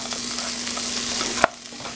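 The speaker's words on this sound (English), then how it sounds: "Now stir it." A spiced potato and peas mixture is stirred in a pan, with a spoon scraping over a close, steady frying sizzle and one sharp knock near the middle.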